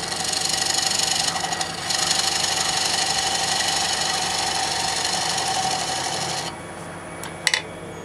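A wood lathe spins a short stack bowl held between centers, giving a loud, steady whirring drone with a continuous rasping hum that cuts off near the end, followed by a couple of brief knocks.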